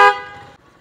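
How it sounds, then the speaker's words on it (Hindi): A single short motorcycle horn toot sounds up close, a bright buzzy tone that cuts off quickly and leaves a faint rumble behind. "इसके आपको हॉर्न चेक कराते हैं अब।"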